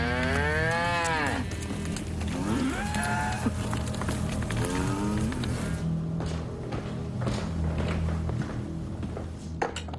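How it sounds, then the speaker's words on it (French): Cows that escaped into the streets of a housing estate in Todmorden, Yorkshire, moo in several long, loud, close calls one after another, with occasional thuds and footsteps. "Il y a des vaches qui se sont échappées du lotissement."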